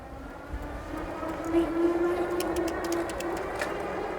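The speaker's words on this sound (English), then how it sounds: "Now I'll turn it up to dual motor." A Duotts S26 dual-motor e-bike with a 750-watt rear motor accelerates in dual-motor mode, a steady rising motor whine under rushing wind and road noise, moderately loud throughout.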